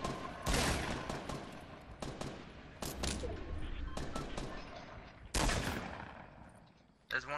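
Gunfire in the Fortnite Battle Royale video game, loud repeated bursts of shots and rapid volleys with rumbling echoes, one heavy volley standing out near the end, while players talk over it.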